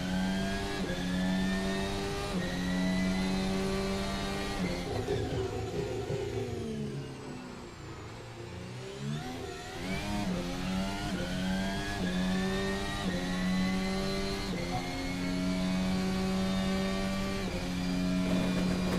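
Ferrari race car engine in a racing video game, a sustained loud droning whine that dips as the car slows mid-run and then climbs back to a steady high pitch.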